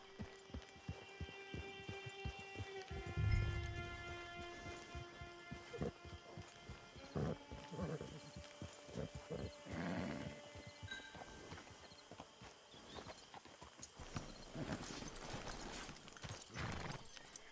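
Horse hooves clip-clop in an irregular rhythm at moderate volume in Red Dead Redemption 2 Online, with a horse's whinny early on and game ambience beneath.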